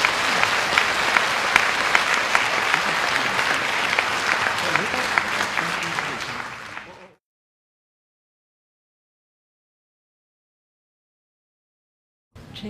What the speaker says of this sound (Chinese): 再次以热烈掌声谢谢陈南青先生。